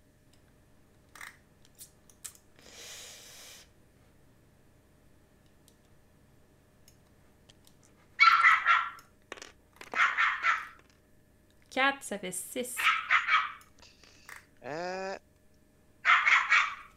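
A dog barks several times in short, loud bursts, close by, between and over speech from people talking while playing a board game.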